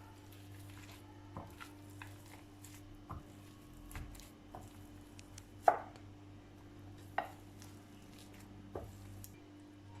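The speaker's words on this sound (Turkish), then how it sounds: "Şimdi patatesimiz soğumadan güzelce ezelim." Boiled potatoes being mashed while still warm for a parsley potato salad, with soft irregular squishing thumps and scrapes at a moderate distance, a steady low hum underneath and no talking.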